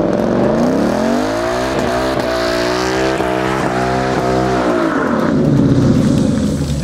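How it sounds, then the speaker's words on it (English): A Ford Mustang GT roars through a burnout on a closed street, its engine revving hard and loud with wavering pitch for several seconds as the tires spin, then the engine note drops near the end. "So let's do a burnout and smoke these tires."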